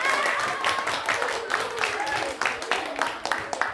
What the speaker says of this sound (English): now you can applaud yourself for that